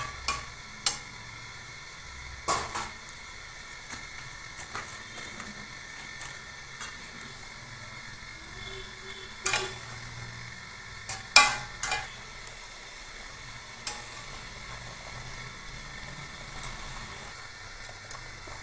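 Fish fry gently in a pumpkin curry as a faint low sizzle runs underneath, broken by intermittent sharp clinks and taps of a spoon stirring against the pot.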